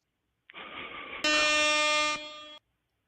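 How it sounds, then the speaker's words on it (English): Loud, close air horn blast lasting about two seconds, opening with a lower tone that jumps to a harsher, brighter blare before cutting off, with no talking over it. "I'm gonna hit him with the air horn."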